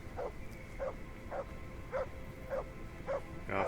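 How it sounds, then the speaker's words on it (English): A dog in the Kingdom Come video game barks steadily, about seven evenly spaced woofs at moderate distance over a low background rumble. "I'm not going to take that dog with me if he's going to keep on barking like that"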